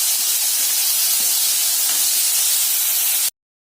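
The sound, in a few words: tomatoes sautéing with onions in pan for chickpea curry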